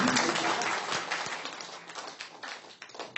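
A brief round of audience clapping at a spiritual talk is loudest at the start and thins into scattered claps as it fades.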